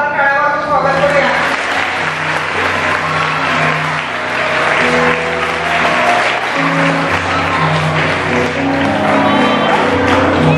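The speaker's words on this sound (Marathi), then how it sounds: "पाहुण्यांचं जोरदार टाळ्या वाजवून स्वागत करूया." A church audience at a children's crusade in Miraj gives loud, continuous applause to welcome guests. The clapping holds steady from start to finish, with crowd voices and cheers mixed in nearby.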